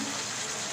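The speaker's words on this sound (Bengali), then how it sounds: "সাথে সামান্য পানি" A little water poured into a cooking pan during a kochur loti and jackfruit seed recipe, a brief continuous gushing splash with no voices.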